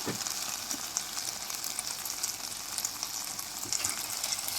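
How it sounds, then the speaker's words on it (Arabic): Okra sautés in a pan with cumin, coriander, black pepper, garlic, onion and crushed chili, giving an even, moderately loud sizzle with light crackles and occasional stirring taps, no voices. "بعد ما شوحت الباميه مع التوابل والثومه والبصله وهرسه الشطه"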